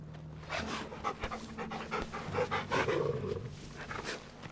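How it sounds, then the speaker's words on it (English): Steady, rapid dog panting from a companion dog in the video game Final Fantasy XVI, close and continuous throughout, with breathy rhythmic puffs over a low ambient hum. "That's a good doggy."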